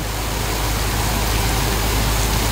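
Heavy rain pours down in a steady, dense roar, loud and close throughout with no letup, alone without voices.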